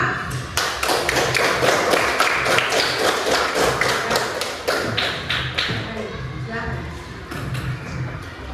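A classroom of students applauds their group leaders during an Islamic religious education lesson, with many hands clapping in a steady, dense burst that lasts throughout and voices mixed underneath.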